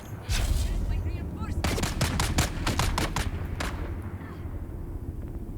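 Gunfire from Dune Awakening cracks out in a rapid volley of about a dozen sharp shots, close and loud, packed into a couple of seconds over a low rumbling background, then a last stray shot.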